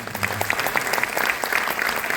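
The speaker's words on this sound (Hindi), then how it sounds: "इन दोनों के मेहनत के लिए जोरदार तालियां होनी" Concert-goers at a golden-era music program clap loudly for the show's two organisers. The applause is vigorous and dense, many hands close and steady for the whole stretch.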